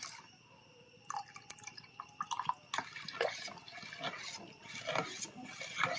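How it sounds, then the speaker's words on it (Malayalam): Second coconut milk is poured into boiling payasam, producing close splashes and drips of liquid that rise into a busier pour toward the end. "അപ്പം ഞാനിതാ 2ാം പാൽ ഒഴിക്കുകയാണ് കേട്ടോ"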